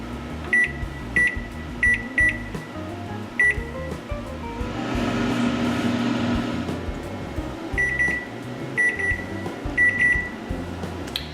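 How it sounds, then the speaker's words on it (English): Kitchen timer going off while protein muffins bake, sounding a series of short, close, high beeps in groups, with a steady appliance hum and a brief noisy stretch between them. "So the timer just went off"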